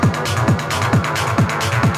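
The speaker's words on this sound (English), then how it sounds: "Snare roll." In the break of a dark techno track, a loud synthetic snare roll repeats in tight bursts over a pulsing kick that thumps about twice a second, a dense, driving electronic texture without voices.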